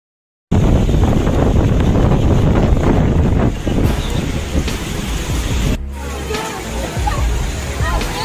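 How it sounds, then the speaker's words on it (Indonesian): Strong, steady roar of storm wind buffeting the microphone at Kuta Beach, Bali, mixed with rushing water and surf, loud and continuous throughout. "beginilah suasana Pantai Kuta yang diterjang badai."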